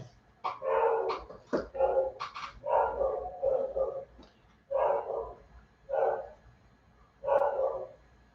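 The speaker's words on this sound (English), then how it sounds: "Sorry for the dog barking in the background." A dog barks repeatedly, alternating with whimpering yips, in a short irregular series of loud, close outbursts with pauses between them.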